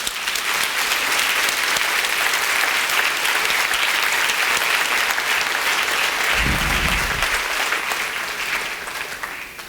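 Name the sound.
church congregation applauding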